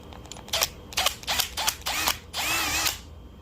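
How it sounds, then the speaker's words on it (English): A power drill whirs in several short bursts, then runs in one longer steady spin, close by and fairly loud, with no talking, drilling holes in a phone mount arm. "I'll go ahead and drill both holes in the short part of the arm."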